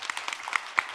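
A conference audience applauding a speaker, a short burst of scattered individual claps, fairly sparse and moderately close, with no talk over it.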